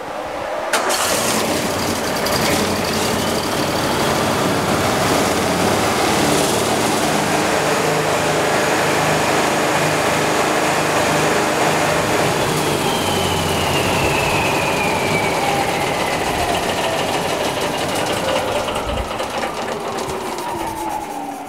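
A loud engine-driven Hypervac Cube Vac vacuum system runs steadily throughout, a constant droning roar with mechanical rattle and a faint rising whine, no talking.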